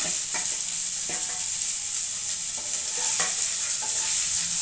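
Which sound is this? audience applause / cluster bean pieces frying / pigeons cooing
cluster bean pieces frying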